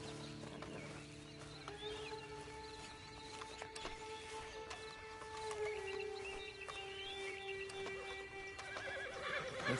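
A horse neighs within a PS4 video game scene, mixed with hoofbeats and steady game ambience and music, the sounds rather faint and busy rather than close and clean.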